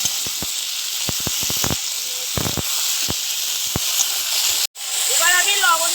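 Mete alu (yam) sizzles steadily as it is stirred and fried in a pan, a constant close hiss broken by scraping clicks from the stirring, with a brief dropout near the end.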